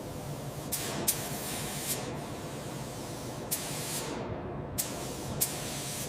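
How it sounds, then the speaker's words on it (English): Spray gun applying protective primer to the frame of a 1963 Buick Riviera, a steady soft hiss with several short sharper bursts of spray, close and even throughout. "Protective primer is applied."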